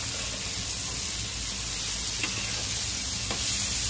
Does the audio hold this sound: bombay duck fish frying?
yes